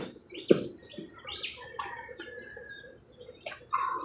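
Hens cluck and call in short scattered bursts in the rain, with soft bird chirps mixed in over a quiet, damp background.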